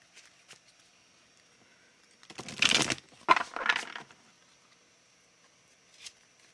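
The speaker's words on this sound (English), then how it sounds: "You may notice I choose to shuffle both upside down and right side up." A deck of tarot cards being shuffled, with a couple of short riffling bursts in the middle of an otherwise quiet stretch and a faint tap near the end.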